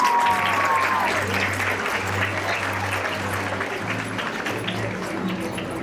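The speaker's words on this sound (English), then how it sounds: "Round of applause." Applause at an elementary school sixth-grade graduation ceremony as a class finishes being recognized, a steady crowd of hands clapping continuously throughout at moderate volume with faint voices underneath.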